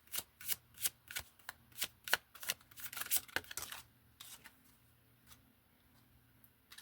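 Tarot cards shuffled by hand, a quick run of crisp riffling bursts that thin out into scattered light taps, close and quiet.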